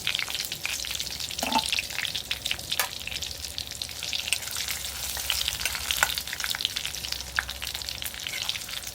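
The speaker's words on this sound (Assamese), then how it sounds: "এতিয়া গৰম তেলখিনিত প্ৰথমে আপুনি শুকান জলকীয়া আৰু তেজপাতকেইটা এনেকৈ অলপ হেৰি হ'ব দিয়ক" Dry red chillies and bay leaves frying in hot oil give a steady close crackling sizzle across the whole stretch, with occasional sharper pops and brief stirring scrapes.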